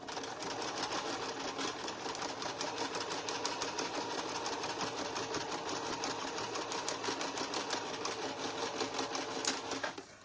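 A sewing machine stitches pieces of a quilt block, its needle running in a steady, fast continuous whir for the whole stretch at moderate level, with no pauses and no talk.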